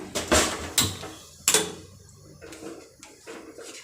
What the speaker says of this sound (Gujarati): હવે તેને હલાવવાનું છે થોડીક વાર ગેસ ચાલુ કરીને